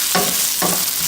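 Onions frying in a pan for a celery stew, a close, dense sizzle with two brief stirring scrapes over the crackle.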